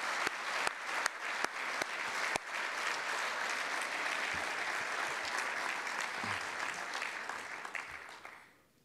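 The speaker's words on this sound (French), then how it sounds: "que l'on t'applaudisse pour ça" Sustained audience applause after a closing speech, steady dense clapping with a few sharp louder claps, fading out at the end.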